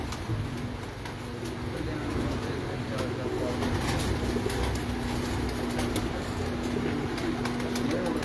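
Pigeons kept as pet breeds coo steadily throughout, a continuous low cooing under a constant background hum, fairly close and moderately loud.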